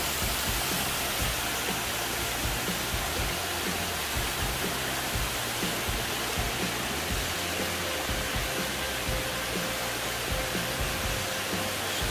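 A powerful waterfall on the Areuse river roars in a steady, dense rush of broadband noise, loud and close, with no speech.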